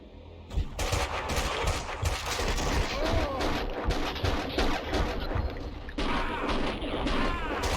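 Gunfire from the Max Payne 2 video game comes as dense, loud bursts of shots and crashes that run continuously over a low rumbling bed, with voices mixed into the chaos.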